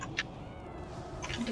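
A cat meows in the Zul'Aman raid of a video game, two short mewing calls, one near the start and one near the end, over steady game noise.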